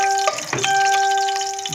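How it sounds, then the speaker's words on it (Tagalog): Pork and tomato sautéing in a pan, with a steady close sizzle and a brief clatter of stirring partway through. Faint electronic tones are also present. "Gigisa na tayo mga kabakyar."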